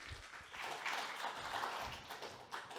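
A conference audience applauds a speaker at a climate action and sustainability session, a steady wash of clapping that holds fairly even for about three seconds before a slight dip near the end.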